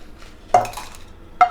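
Cashews and dried red chillies tossed in a pan for egg curry, heard as two sharp metallic clinks of a utensil against the pan about a second apart, with faint low frying underneath.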